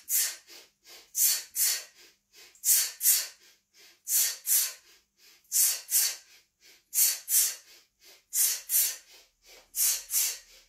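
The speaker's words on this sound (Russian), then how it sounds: "Вдох, вдох, выдох, выдох." Deep, rhythmic breathing during joint-mobility exercises, paired audible inhales and exhales repeating steadily and close, with no talking between breaths.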